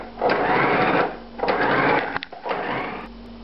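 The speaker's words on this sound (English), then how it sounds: "Now we're going to grind this up, but not too finely." A food grinder working through a stuffing of cooked egg yolk, onion and bacon, whirring in three steady bursts of about a second each with short pauses and small clatters between them.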